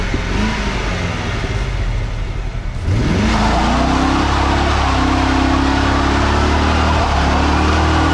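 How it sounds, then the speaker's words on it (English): A C4 Corvette with an LT4 V8 doing a burnout: after a rough idle, the engine suddenly revs hard, climbing in pitch and holding a loud, sustained roar close by. "You have a problem with your car, you do a burnout, it'll fix it."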